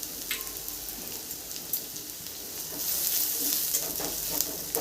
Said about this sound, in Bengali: রসুন বেশি ভাজা দরকার নেই, হালকা একটু ভেজে নিলে হয়ে যাবে।